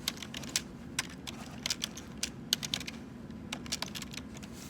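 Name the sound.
typing on a computer keyboard in the chat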